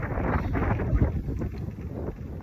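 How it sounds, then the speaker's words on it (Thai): Strong wind blows across an outdoor evening spot where salt-grilled frogs are being eaten. Continuous loud, rough rumbling buffets the microphone, with gusty swells throughout and no clear voice. "โอ้ยลมแห้งครับ"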